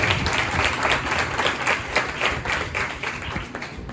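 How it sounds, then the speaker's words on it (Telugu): A church congregation at an anniversary service breaks into sustained applause, many hands clapping steadily and loudly for several seconds with a faint crowd murmur underneath. "చప్పట్లు కొట్టి దేవుని ఆశీర్వదించాలి."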